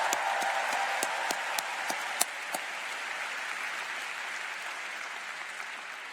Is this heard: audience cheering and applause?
yes